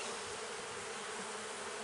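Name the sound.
honeybees buzzing in hive during inspection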